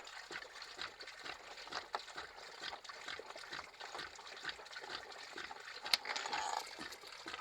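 Water drains steadily from a Hayward DE pool filter, a continuous trickling and splashing at moderate volume with a brief sharper splash partway through, and no talk over it.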